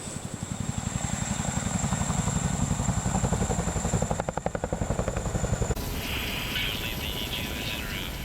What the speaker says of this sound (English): Because the Chinook is an extremely large aircraft, it requires a crew of 4.